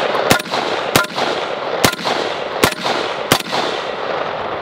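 Five sharp 7.62x51 rifle shots fired at homemade body armor, each a loud crack with a brief decaying tail, spaced unevenly about a second apart outdoors.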